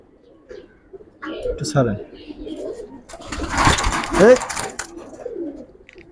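Giribaz pigeons coo in a loft in soft, low, rolling calls that rise and fall in short bursts, while people talk over and between the birds.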